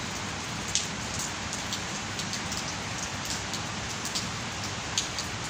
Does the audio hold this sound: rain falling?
yes